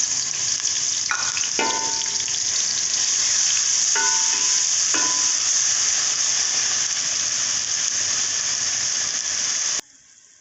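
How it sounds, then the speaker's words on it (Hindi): Onions fry in hot cooking oil in a pot with a loud, steady sizzle. Two or three short scraping stirs sound close by, then the sizzle cuts off abruptly near the end. "हम इसमें प्याज को डालकर हल्का सा ब्राउन कर लेंगे।"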